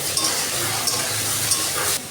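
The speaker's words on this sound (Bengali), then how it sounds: "এখন আমি একটু তেল দিয়ে দিলাম, পেঁয়াজ দিয়ে দিলাম। এখন আমি শাকটা দিয়ে দিলাম।" Red amaranth greens frying in oil with onion in a pan, with a steady, even sizzle that runs throughout, with a few brief clinks as the greens are stirred.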